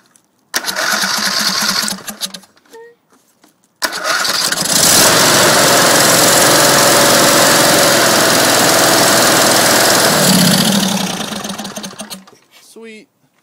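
A finished racer engine is started and runs with a loud, buzzing high-revving drone that holds steady for several seconds, then cuts out, with brief bursts of running before it and quiet gaps.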